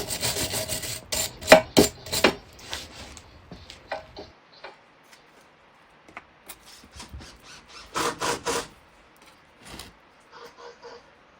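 Lattice wood is worked by hand for a garden trellis, giving bursts of rasping and rubbing strokes with ticks and knocks, irregular and fairly close, with quiet gaps between.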